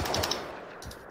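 Automatic gunfire in the survival game Rust rings out in a dense, loud burst that fills the short moment before tapering off, with a final shot near the end.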